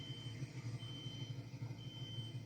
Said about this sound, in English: Someone's alarm's going off.